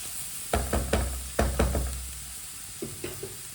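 Vegetables being stir-fried in a pan for Chinese kebabs, a spoon scraping and stirring in several short bursts over a low sizzle, close and fairly loud, with no talking.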